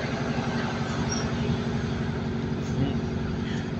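CrossCountry train running, a steady rumbling drone from inside the carriage with rhythmic low pulsing and a constant hiss, even and unbroken throughout, with a faint voice at times.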